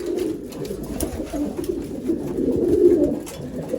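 A racing pigeon cockbird coos in low, throaty, repeated rolls, close and fairly clear over a soft background.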